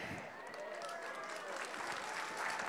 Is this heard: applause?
yes